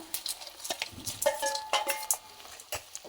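Bitter gourd slices being stir-fried in a pan with turmeric, giving repeated scraping and stirring clatter of a utensil against the pan with a light sizzle underneath, close and moderately loud.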